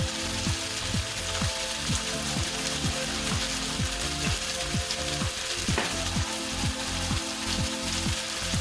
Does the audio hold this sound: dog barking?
no